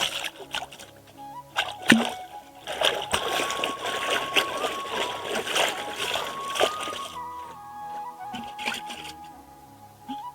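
Water splashes and sloshes close by as a clay pot is rinsed and scrubbed, a continuous wet churning with occasional sharper splashes.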